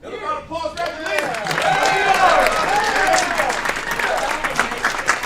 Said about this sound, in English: Another round of applause for Angelina.